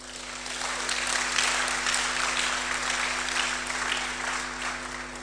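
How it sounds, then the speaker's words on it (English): A university audience applauding at a live roadshow talk, a full room clapping steadily and fairly loud, swelling slightly then holding, with a low steady hum beneath. "Clap for yourselves."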